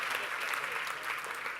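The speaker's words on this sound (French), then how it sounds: "On peut les applaudir" Brief, even applause from a seated audience at a conference opening session in Monaco, a thick continuous patter of many hands with no pauses.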